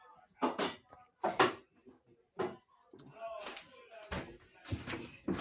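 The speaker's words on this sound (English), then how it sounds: "I'm gonna super close the door." A door closing indoors, with several sharp knocks and thuds from handling a door, mixed with rustling and nearby voices talking.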